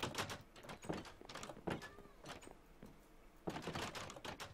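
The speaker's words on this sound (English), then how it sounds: "I'm hearing a lot of flipping doors" Doors repeatedly flipping open and shut in a Minecraft-style block game, a rapid series of wooden clacks in bursts, close and moderately loud, with no voices.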